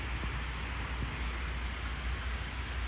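Steady rain falling outside a home kitchen, a dense, even hiss of drops on surfaces that holds constant throughout, with no voices.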